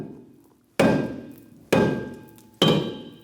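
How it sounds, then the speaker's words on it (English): Three loud, sharp mallet whacks, evenly spaced and ringing briefly, strike a stuck rear brake rotor on a 2004–2009 Mazda 3, heard up close with no talk. "we're going to have to hit it with a mallet and get the rotor off"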